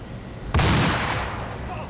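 Explosive charge detonating in the military video game Arma 2, a sudden loud blast at about half a second with a rumbling low-heavy tail that decays slowly over the remaining second and a half.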